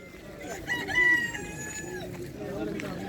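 A rooster crows once at a Polish poultry and pigeon market, a loud drawn-out call rising and falling over about a second, with clucking hens and market chatter around it.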